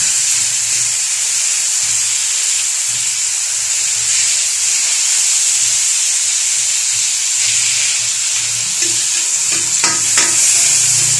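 Loud, steady sizzle and hiss of tomatoes sautéing in a hot pan, with occasional scraping stirs near the end and no talk.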